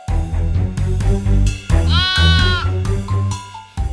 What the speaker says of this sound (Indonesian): Kambingnya anak kambing sudah pulang